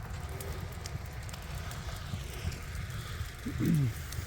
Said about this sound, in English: it's just going to sit there and cook along like a campfire